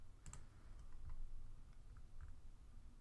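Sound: typing on a computer keyboard

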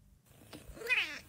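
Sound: cats meowing in a played video

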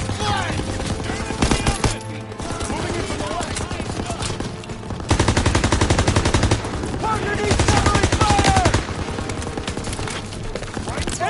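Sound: machine gun fire in video game Call of Duty WW2

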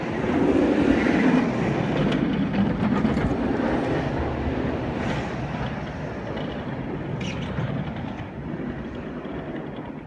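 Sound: roller coaster ride speeding along track at theme park

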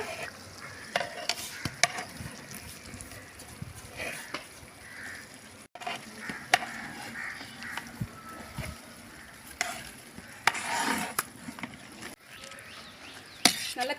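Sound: stirring cooked beef into dum biryani

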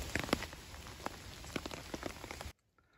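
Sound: rain falling outdoors

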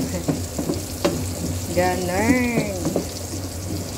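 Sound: pork belly adobo ingredients sautéing in a pan

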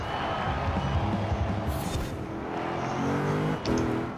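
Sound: car engine slowing and shifting gears in Forza Horizon 4 video game

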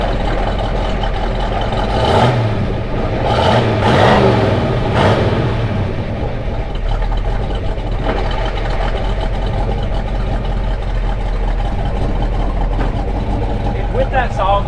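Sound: 1971 Ford Mustang Boss 351 solid-lifter engine running

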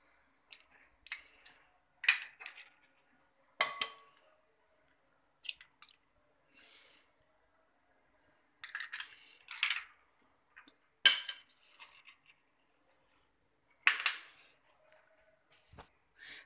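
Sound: beating eggs in a bowl

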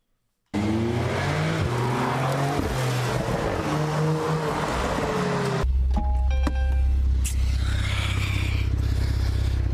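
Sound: car engines

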